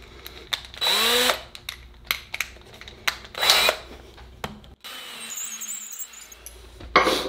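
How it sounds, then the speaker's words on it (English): A power drill with a large bit whines in several bursts while boring a flintlock gun's wiping stick, one longer high-pitched spin standing out, with pauses and handling clatter between runs. "I'm gonna go get another yet bigger drill bit."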